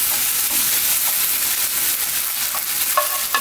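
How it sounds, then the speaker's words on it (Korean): Kelp stir-fried in a pan with a little oligosaccharide syrup sizzles loudly and steadily up close, with scraping stirring strokes that grow more noticeable near the end. "다시마를 먼저 볶을게요"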